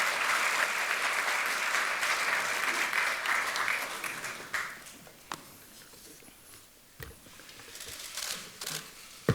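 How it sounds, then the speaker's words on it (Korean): Assembly hall applause at a Democratic Party caucus of newly elected lawmakers choosing National Assembly speaker candidates, a thick burst of clapping that fades after about five seconds into scattered claps, shuffling and camera clicks. "뜨거운 박수 부탁드리겠습니다"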